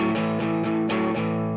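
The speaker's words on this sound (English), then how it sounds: "I'm also using a palm mute here with my strum hand." Palm-muted electric guitar strumming a rhythm, with a dense, slightly distorted chug and short choppy accents about every quarter second, played close and continuously with no talking.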